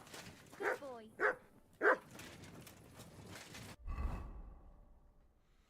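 A dog in the video game Kingdom Come: Deliverance II barks three times in quick succession, fairly close, then falls quiet under low in-game ambience and a soft thump.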